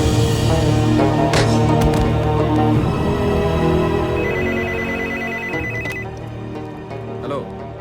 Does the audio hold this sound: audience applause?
no